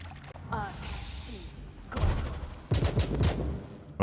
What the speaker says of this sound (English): Let's end this with a magic missile.